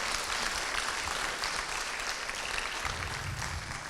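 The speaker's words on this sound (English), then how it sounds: "let's give him a round of applause" An audience at a talks event bursts into sustained applause, a dense even roar of many clapping hands filling the room from start to finish with no speech over it.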